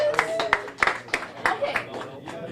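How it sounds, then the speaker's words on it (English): An audience at a justice initiative event gives a round of applause, scattered sharp claps rising and falling over a couple of seconds while a voice talks over them. "can we give her a round of applause here?"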